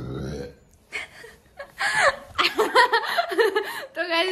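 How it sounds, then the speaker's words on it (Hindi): A burp after eating a langar meal of kadhi and rice sounds close to the microphone, followed by chuckling and laughter, with voices talking. "ये डकार आ गई थी"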